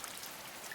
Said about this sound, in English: The rain drizzles, making my hair and jacket damp.